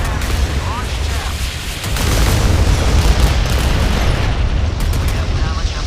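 A missile explosion striking a warship in the Modern Warships naval combat game, a heavy rumbling boom with dense roaring noise that swells partway through and carries on loudly, with faint radio-style voice callouts underneath.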